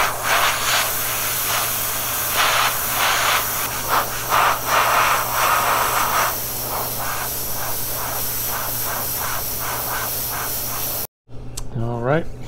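An airbrush sprays paint onto a ball helmet in short repeated hissing bursts, fairly close, over a steady low hum, with a brief cutoff near the end followed by a voice.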